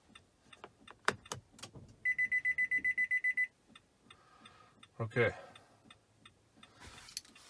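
A 2015 Nissan Pathfinder sounds a rapid series of about ten evenly spaced electronic beeps during proximity key programming, set between scattered clicks and handling noise, with a brief spoken word from a person nearby.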